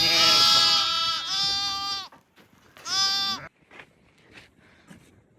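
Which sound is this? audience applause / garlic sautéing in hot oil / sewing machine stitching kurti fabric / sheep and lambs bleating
sheep and lambs bleating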